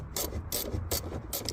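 Ratchet wrench loosening a 10 mm nut on the battery terminal of a BMW G80 M3, heard as four short rasping clicks in a steady rhythm, close and fairly quiet.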